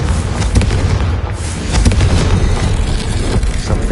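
Confringo, a fire spell cast in Hogwarts Legacy, bursts in a loud, dense explosion with rumbling booms and crackling blasts that fill the whole moment.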